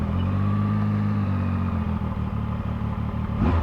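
A Zontes 703F motorcycle engine runs in a loud, close, even rumble with a faint ticking clatter, ending in a brief louder burst.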